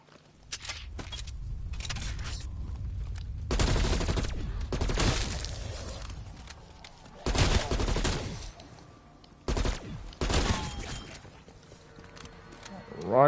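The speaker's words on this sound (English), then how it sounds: "Oh my god, that auto turret." Automatic turret fire rattles in repeated loud bursts during a Call of Duty Cold War Zombies survival round on Mauer der Toten, mixed with other gunfire and game noise while a player talks over it.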